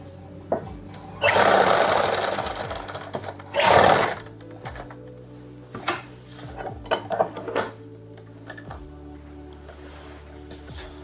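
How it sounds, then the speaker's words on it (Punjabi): A sewing machine stitches pleats on a suit, running in two loud bursts with brief pauses, then short lighter runs and clicks of handling fabric and parts, no talking. "ਇੱਕ ਪਲੇਟ ਰਹਿ ਗਈ ਆਪਣੀ ਉਹਨੂੰ ਵੀ ਆਪਾਂ ਸਲਾਈ ਲਾ ਲਈਏ"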